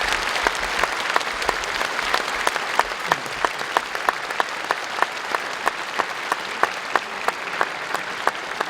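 Congregation applause in a church during an installation thanksgiving service, a steady, dense round of clapping from a large seated crowd with a few sharper individual claps standing out throughout.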